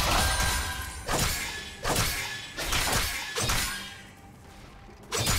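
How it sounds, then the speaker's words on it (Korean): Repeated crashing, shattering blasts as a red team turret is destroyed in League of Legends, about five heavy bursts spaced roughly a second apart, loud and alone. "빨간 팀의 포탑이 파괴되었습니다."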